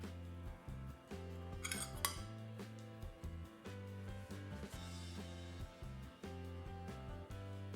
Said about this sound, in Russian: Смешиваем их в миске.